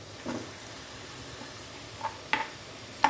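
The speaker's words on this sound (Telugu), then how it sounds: "ఇలా లైట్గా గోల్డెన్ కలర్ వచ్చేదాకా వేయించుకోవాలి." Onions fry gently in a pan over a low flame. A soft, steady sizzle is broken by a few sharp stirring clicks near the end.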